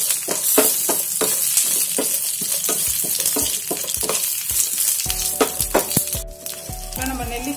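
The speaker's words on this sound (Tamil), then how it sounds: "இதை நல்லா செவக்க வறுத்துக்கணும்." Green chillies, curry leaves and onion frying in gingelly oil for gooseberry rice make a dense sizzle with quick rhythmic spoon taps against the pan; a tonal musical sound joins toward the end.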